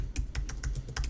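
Rapid clicks of computer keyboard keys, about eight quick keystrokes in one second, close and clear with no voice.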